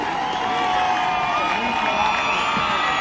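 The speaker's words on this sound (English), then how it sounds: "Crowd on their feet here at Tom and Mary Casey Stadium." Stadium crowd at an NCAA men's lacrosse tournament game cheering in the final minute of play, a loud continuous roar with whoops and shouts.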